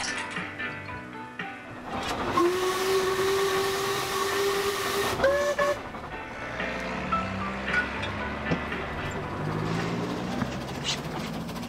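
A steam engine's whistle sounds a long sustained tone, then a brief second blast, rising over a busy, hissing, rumbling railway background.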